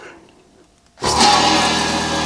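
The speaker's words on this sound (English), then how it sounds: "Filling up the pot for the dishes." Lake water from a cabin's off-grid setup gushes suddenly into a pot for washing dishes, a loud, steady rushing stream that starts abruptly after a quiet moment and keeps pouring.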